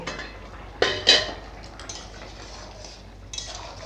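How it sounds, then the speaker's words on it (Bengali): A metal lid is lifted from a cooking pot of fish and cauliflower curry in a home kitchen, giving two sharp clanks close by, followed by a soft simmering hiss and a faint clink. "তরকারিটা হয়ে গেছে কিনা একটু ঢাকা খুলে দেখব"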